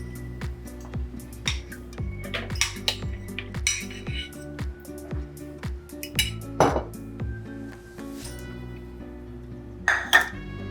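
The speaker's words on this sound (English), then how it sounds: "You whisk it until it's just fluffy." Softened butter and caster sugar being whisked in a bowl for Scottish Empire biscuits, heard as repeated metallic clinks and scraping of a whisk against the bowl, steady and close, with no talk.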